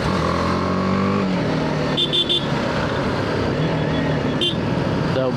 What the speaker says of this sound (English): The bike's noise is super good.